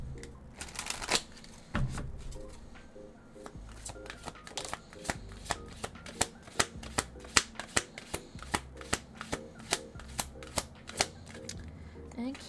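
A deck of tarot cards being shuffled, with crisp repeated riffling flicks and taps at a steady rhythm, close and moderately quiet, with a voice talking faintly underneath.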